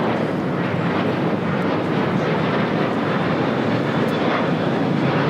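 A jet airliner in Team USA livery taxis at LAX, a steady, loud broadband engine roar that holds constant with no talking.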